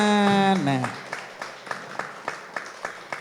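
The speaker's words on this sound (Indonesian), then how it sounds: "Tepuk tangan dulu dong untuk Pak BPDI ya." At the third-anniversary celebration of MPP Kota Yogyakarta, a sung or held voiced tone ends and sparse, evenly spaced claps follow for Pak BPDI, sounding like a small group clapping in rhythm.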